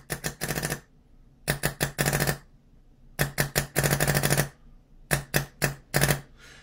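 Airsoft gun running on HPR gas, firing rapid bursts in clusters of sharp mechanical shots separated by pauses as the gas pressure is turned down until it stops cycling, loud and close with no talk.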